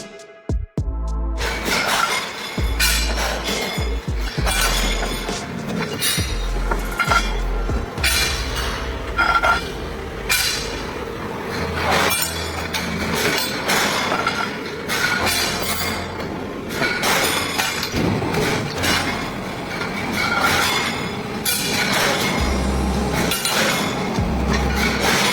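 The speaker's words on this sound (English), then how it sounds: "Specialized railway machine digs and redistributes ballast under the track's power and precision, keeping the rails rock solid." A railway ballast machine grinds and clanks continuously on the track, digging and redistributing ballast, with metallic clinks and rumbling low thuds throughout.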